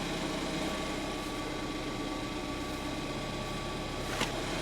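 A Ford Fiesta ST engine, fitted with a Mountune rear roll motor mount, idles with a steady, even low hum and faint mechanical whine, close by, with a brief tick near the end.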